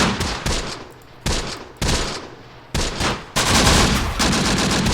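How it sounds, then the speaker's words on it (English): Dense bursts of rifle and machine-gun fire in the WWII strategy game Close Combat: The Bloody First, with loud volleys starting and stopping in several waves during a night battle in Sicily against Italian troops, with no talking. "So I'm going to fire at this unit right here of Fucilieri."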